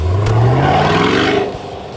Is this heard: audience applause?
no